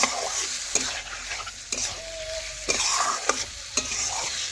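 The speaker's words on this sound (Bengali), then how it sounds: "এখন দেখুন নাড়াচাড়া করে মিশিয়ে নিচ্ছি।" Spices for chicken curry, with cashew and poppy seed paste, are stirred in a frying pan: a steady sizzle broken by repeated spoon scrapes and knocks, close by, with no talking.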